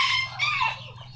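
A Chabo bantam chicken gives a short, close burst of clucking and squawking, loud and alone with no talking.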